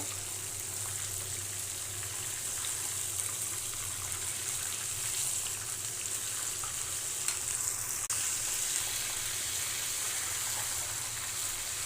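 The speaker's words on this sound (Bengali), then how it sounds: "আমি চিকেন পিসগুলা ডুবো তেলে ভাজতেছি" Chicken pieces deep-frying in plenty of hot oil at home, a steady soft hiss and crackle of sizzling bubbles that stays even and fairly quiet throughout with no talking.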